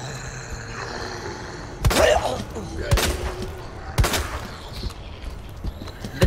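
Three sharp gunshots in Resident Evil 2 Remake ring out about a second apart, each a loud crack over steady background game ambience.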